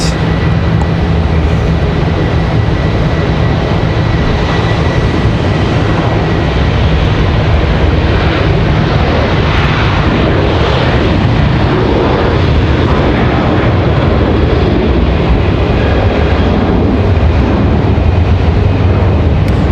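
A Southwest airliner landing hard at Raleigh-Durham International Airport, a loud sustained jet engine roar with reverse-thrust rumble and wind noise, heard from a distance and steady for the whole stretch.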